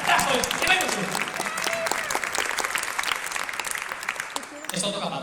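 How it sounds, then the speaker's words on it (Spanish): Lively audience applause at a science show fills the room, a dense, steady clatter of many hands clapping with some crowd noise and a voice briefly heard over it. "Señoras y señores, por favor, un aplauso para analizar los Pokémon iniciales"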